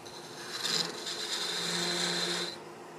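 A woodturning tool peels into wood spinning on a lathe, making a steady rasping, scraping cut that lasts about two seconds before easing off, close and fairly quiet with no talking.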